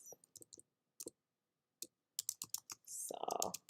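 Quick bursts of clicking keystrokes from a computer keyboard, typed in short irregular clusters with pauses between, close and fairly quiet, ending in a denser flurry of taps.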